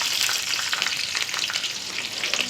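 Green chilies frying in hot oil for tempering, alongside curry leaves, give a dense, steady, close crackling sizzle that holds throughout with no talk.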